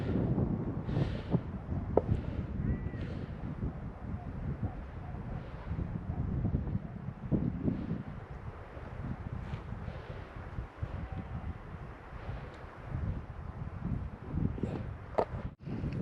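Wind buffeting a microphone on a fell top at night on Rannerdale Knotts, a constant low rumbling roar with gusty swells lasting throughout, no voices.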